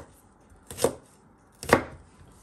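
A knife chops fresh ginger on a cutting board, making two sharp, separate thuds about a second apart, close and clear over a quiet room with no talking.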